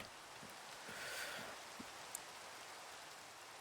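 Steady rain hisses down in a video game, a soft even wash with a few faint low thumps and a small sharp tick partway through; no voices.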